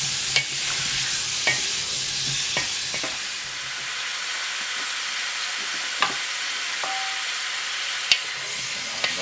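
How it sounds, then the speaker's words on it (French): Sausages sizzle steadily as they grill over a hot wood fire, making a continuous soft frying hiss. Occasional sharp pops and crackles break through the sizzle. "on va griller un petit peu ces saucisses pour éviter que ça se décharne"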